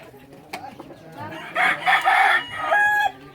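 Roosters crow and chickens cluck in the keeping area of a rural provincial home, several overlapping crows close by, loud and drawn out, with softer clucks between.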